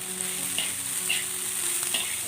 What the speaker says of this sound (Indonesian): Diaduk-aduk